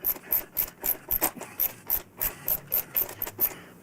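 A 9/16 socket wrench loosening throttle body bolts on a Harley-Davidson motorcycle, with about a dozen quick ratcheting clicks in a steady rhythm, close and fairly quiet.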